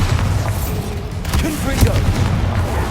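Bombarda blasting spell in Hogwarts Legacy, a dense, loud booming explosion with rumbling low end and crackling bursts filling the whole stretch, a stronger hit near the middle.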